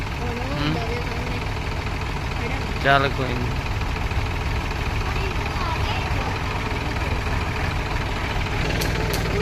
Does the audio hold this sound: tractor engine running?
yes